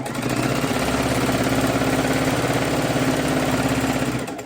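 A sewing machine stitching jelly roll quilt strips into rows, its steady motor hum and fast needle clatter running loud and unbroken without pause, with no talking.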